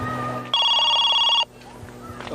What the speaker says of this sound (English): Oh, someone's ringing me, I think.